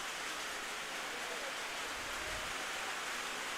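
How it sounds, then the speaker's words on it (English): Heavy rain pours down during a night high school football game, a dense, steady hiss of water falling with no breaks, loud and enveloping from start to finish. "And it is a downpour."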